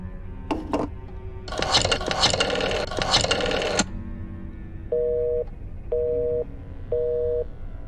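In the video game The Black Mirror 2, a telephone busy signal sounds as three evenly spaced beeps after a burst of handset clatter and dialing noise, fairly loud and with no voices.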